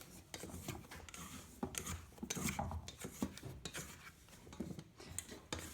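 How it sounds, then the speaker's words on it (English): A small spatula scraping einkorn sourdough dough out of a bowl: close, rasping scrapes and rubs in repeated strokes, low in level, with no talk. "I like to use a little spatula to scrape it all out."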